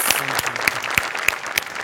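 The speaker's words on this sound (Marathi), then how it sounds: "जोरदार टाळ्या" Loud, dense applause from a studio audience follows a lavani comedy performance, with sharp individual claps rising above the steady roar.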